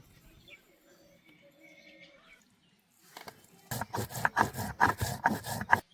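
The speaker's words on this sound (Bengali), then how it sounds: "মশলাগুলো বেটে নেব। প্রথমে বাটবো জিরে" Cumin seeds are ground on a grinding stone for a chicken dish. Faint, quiet sounds come first, then a close run of about eight rhythmic, rasping grinding strokes.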